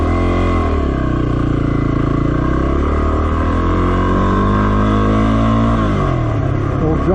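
Car engine heard from inside while driving along the Jimmy Dunn Gulch Road, loud and steady with pitch rising and falling as the driver shifts and accelerates.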